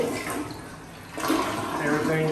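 A bathroom toilet flushes in a newly finished house, a rushing swirl of water that swells midway and keeps gurgling loudly to the end, with a voice faintly audible at the start.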